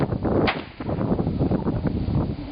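Sharp crack of a stock whip at an outback drover show near the stock yards and long gates, a single bright snap early on over steady outdoor rumble and shuffling.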